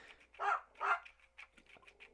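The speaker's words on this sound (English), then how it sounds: "Forgive the dogs." Dogs barking outdoors in the morning, two loud close barks followed by a string of quicker, fainter yips and barks, with no talk.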